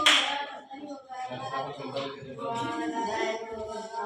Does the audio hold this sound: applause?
yes